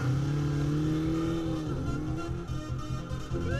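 A motorbike engine revs hard and close as it pulls away, a loud, sustained rising drone with the pitch climbing and wavering, and no voices over it.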